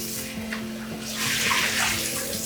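Running water splashes over lemons and mint being rinsed with vinegar in a sink, a steady close wash that grows louder and fuller halfway through, with no talk.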